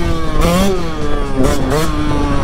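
A motocross motorcycle engine revs hard while the rider pulls a wheelie, loud and close, its pitch climbing and falling in repeated surges with no talk over it.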